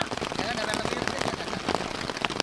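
Rain falls at a camping site, a steady close patter and hiss of drops on surfaces that runs through the whole stretch, with a faint voice in the background.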